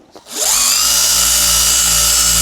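Electric polisher running on the pillar trim of a Tesla Model 3, spinning up sharply and then holding a steady, loud, close whine with no talk over it.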